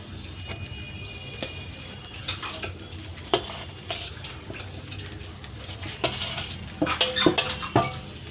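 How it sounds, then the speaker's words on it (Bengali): A spoon scrapes and stirs fried rice with spices in a pan, with irregular metallic clinks and taps against the cookware over a low sizzle, growing busier and louder near the end; no one speaks. "এটা পুরো মিশিয়ে নেব"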